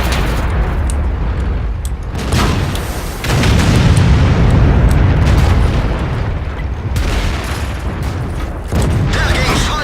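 Repeated tank cannon fire in World of Tanks, a game battle with light tanks: loud, heavy booms and rumbling blasts follow one another in quick succession, dense and continuous, with no clear talking.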